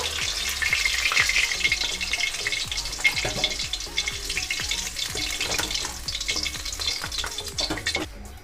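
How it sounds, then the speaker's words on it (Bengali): Light-brown chicken pieces sizzle in hot oil in a kadai, with a busy crackling fry punctuated by repeated stirring and scraping taps, close up and without talking. "সমস্ত চিকেনগুলো এখানে লাইট ব্রাউন করে আমি ভেজে নিয়েছি"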